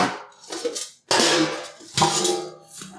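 Metal pans of a Garvee electric chafing dish clank and clatter as they are handled, in a few sharp bursts of ringing metallic knocks close by.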